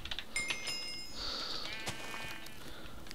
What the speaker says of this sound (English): Actually, just quite a couple of sheep here.